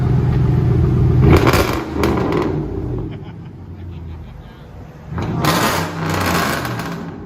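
Dodge RAM pickup with a 4.7L V8 Magnum and loud exhaust, revving in two sharp, throaty bursts separated by a rumbling idle, heard close with voices talking nearby.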